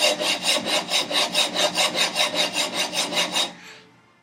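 A plane iron is pushed back and forth on a coarse sharpening stone in about fourteen steady, even strokes, close and clear, then the scraping stops.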